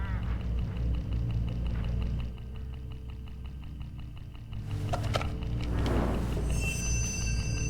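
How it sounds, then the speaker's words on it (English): Goose-like honking and quacking bird calls from hooded crows swarming along a road in a mystery video game, layered over a steady low game drone, with a denser burst of overlapping calls in the second half. "Look, hooded crows all along this road."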